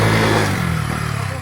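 A motorcycle labours up a steep uphill road on the mountain route from Bagam to Bhairabkunda. Its engine gives a loud, close, steady low drone that holds throughout.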